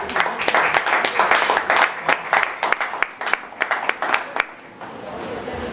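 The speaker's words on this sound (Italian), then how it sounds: "potete dedicargli un applauso" Audience applause at a literary festival, a burst of many hands clapping close by that thins into scattered claps and fades out, with some talk mixed in.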